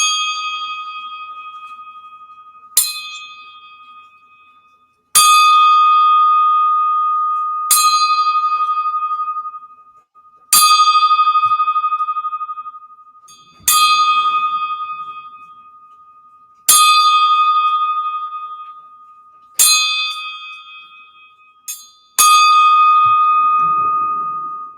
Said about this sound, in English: 10-bell salute.